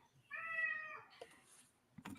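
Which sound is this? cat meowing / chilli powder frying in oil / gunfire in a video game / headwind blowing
cat meowing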